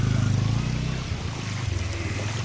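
A farm water-pump motor running in a village field flooded by heavy rain chugs with a low, steady pulsing throb close by, fading into a rougher drone, with faint voices in the background.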